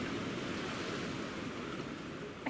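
Rushing water and wind noise around a small sailing boat taking on water, a steady loud broadband wash with no break across the whole stretch.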